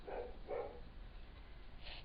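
A pet dog barks twice in quick succession indoors, two short, faint yips over a low background hum, followed by quiet.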